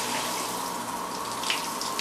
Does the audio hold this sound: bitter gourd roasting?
no